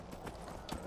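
Horse hooves clip-clop in Skyrim, a modded game, with a few quick, soft hoof beats over a busy game background.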